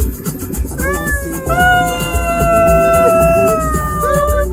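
A cat meows in long, drawn-out wailing cries that carry on almost without a break, loud and close, over a rumbling outdoor background with some low voices.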